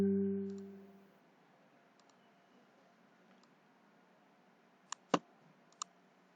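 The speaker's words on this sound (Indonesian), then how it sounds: "Klik lagi sekali di sini." A computer mouse gives a few quiet clicks, one double click and a single click near the end of an otherwise hushed room.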